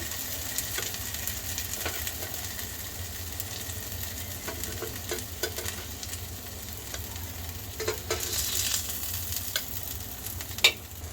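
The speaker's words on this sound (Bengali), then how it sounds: "চিকেনের টুকরোগুলো ভাজা হয়ে গিয়েছে, আমি উঠিয়ে নিচ্ছি।" Chicken pieces for a Mexican chicken steak sizzle steadily in a frying pan, a continuous crackling hiss with occasional scrapes and clinks of stirring, close and moderately loud with no talk.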